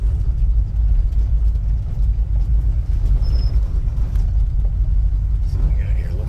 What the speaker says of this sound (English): So it's drive time for this 1972 Suburban. So let's go for a ride.